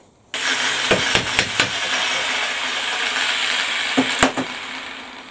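A milling machine cuts into a raised Land Rover badge, taking about a quarter inch off, with a steady loud whirring drone and a few sharp clunks and knocks near the start and again toward the end.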